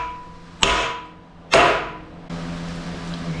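Bushings are hammered into the front axle of a compact road grader: two heavy metallic blows with ringing decay, about a second apart, then a third, softer knock followed by a lingering hum, close and loud.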